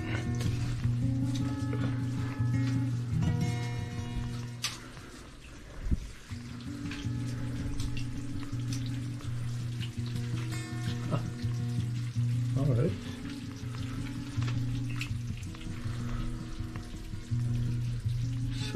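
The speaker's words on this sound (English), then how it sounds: "So it's basically just underground water." Underground water trickling in a hidden cave on Tenerife's northern coastline, a close hissing, bubbling flow with faint drips and a low steady hum running underneath.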